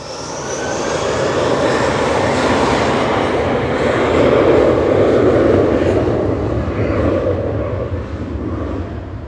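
A plane landing at Manchester Airport roars past close and loud, its engine noise swelling to a peak midway and then slowly fading, with no talking over it.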